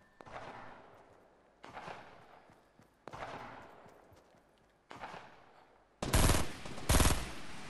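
Video game gunfire rings out in several separate shots or short bursts with echoing decays, then a louder, harsher close burst of rapid fire at the end.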